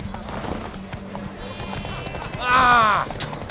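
Horses gallop in a race in the Witcher 3 video game, with rapid clip-clop hoofbeats under talk and a loud whinny rising briefly near the end.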